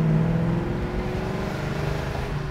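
A 1967 Ford Mustang Fastback restomod engine runs close by at a low, throaty rumble, rising briefly as it is revved at about quarter throttle.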